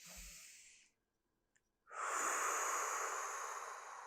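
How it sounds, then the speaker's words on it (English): Close, forceful breaths during a seated hip stretch: a broadband hissing exhale, then a second of silence, then a long, loud, steady rush of air from a deep breath that carries on to the end. "So you're going to take a nice big breath in. You're going to exhale."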